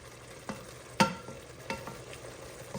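Oysters and onions cooking in bacon grease give a low steady sizzle, broken by a few sharp utensil clicks and one louder clack near the pan, with no voices.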